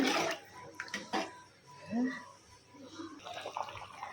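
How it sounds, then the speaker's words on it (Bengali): Water poured into a pot of potato and green pea curry: a short gush and splash at the start, followed by quieter bubbling and a few clinks of the pot, close by. A voice speaks briefly. "পানি দিয়ে দিলাম।"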